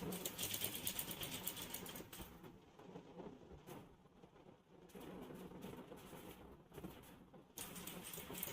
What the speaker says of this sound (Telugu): ఒకసారి కుట్టాక మళ్ళీ ఇంకోసారి కుట్టు వేసుకోండి.